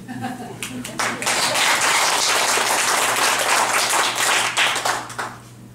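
An audience breaks into applause during a talk, a dense wash of clapping that swells in, holds steady for several seconds and thins out near the end.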